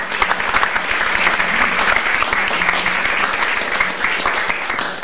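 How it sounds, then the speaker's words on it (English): Steady, dense applause from an audience at a political talk event on the British elections, loud and continuous throughout with no gaps. "give them a warm hand of applause"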